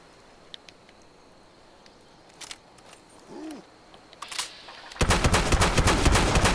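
A turret in the video game Fallout 76 that begins with a few faint pops and clicks, then opens up into loud, rapid, sustained automatic fire at the end.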